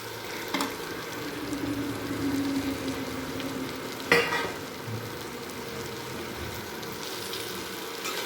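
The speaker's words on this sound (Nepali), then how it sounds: "अब मम्मीले अरबी या हाम्रो यहाँ पिँडालु हाल्दै हुनुहुन्छ कराईमा।" Taro root (pidalu) frying in a kadai for a homemade Nepali-style curry, a steady close sizzle with stirring and a sharp utensil clink midway.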